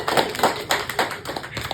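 Hands clap or tap in a quick uneven run of about seven sharp strikes, close and moderately loud, with no talking.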